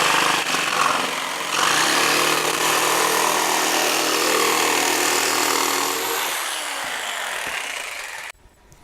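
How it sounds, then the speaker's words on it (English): A jigsaw cuts through plywood for a mailbox Christmas decoration, its loud, steady buzzing rasp running without a break for about eight seconds before cutting off abruptly. No one speaks. "I'm just going to use my jigsaw and just cut that part off."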